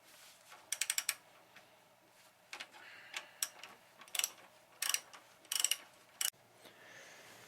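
A ratchet cracks loose a nut on the intake manifold of a 1995 Grand Prix with a GM 3100 V6, giving several bursts of quick, close clicking separated by pauses, with faint handling noise between them.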